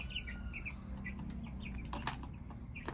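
Busy high-pitched peeping and chirping from a group of turkey chicks, continuous over a low steady rumble of fans or machinery.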